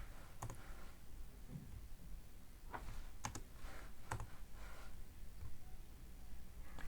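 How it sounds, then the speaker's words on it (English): A password is typed on a computer keyboard in scattered light clicks, a few sharper taps standing out against a steady background hiss. The keys sound quiet and close. "So let me try to type in the password."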